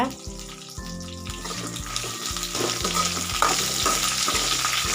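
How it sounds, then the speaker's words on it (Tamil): Chopped onions and curry leaves sautéing in hot oil for spicy mutton thokku, a steady close sizzle with occasional stirring scrapes, under a background of music. "எல்லாம் வதங்கினதுக்கப்புறமா பெரிய சைஸ் வெங்காயம் வந்து சேர்த்துக்கோங்க"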